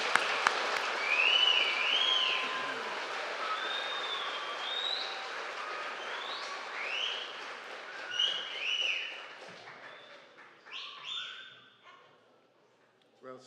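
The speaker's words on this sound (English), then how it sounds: "Let's give one more round of applause for these graduates." Crowd applause for graduates at a high school graduation ceremony, sustained clapping mixed with cheers and whistles, fading toward the end, with voices in the hall.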